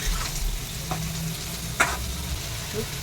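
Vegetables sizzle in oil in a pan, seasoned with salt and turmeric, a steady close frying hiss with a few soft stirring scrapes.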